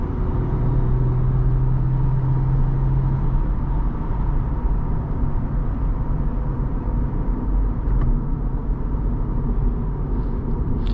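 A 2012 Lexus IS250 AWD cruising on the road gives a steady, even low rumble of engine and road noise, close and continuous, with no talking over it.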